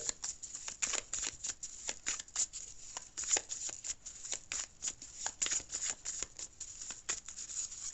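A deck of tarot cards shuffled for a reading, rapid repeated riffling and flicking bursts in a quiet room, fairly soft and close, with no speech.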